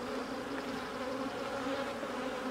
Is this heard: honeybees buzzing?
yes